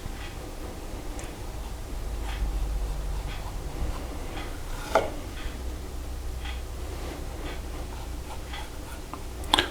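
Knife scoring Danish pastry dough into strips between diamond shapes, using the back of a serrated knife, giving soft scattered taps and clicks on a board, with two sharper knocks near the middle and end, no talking.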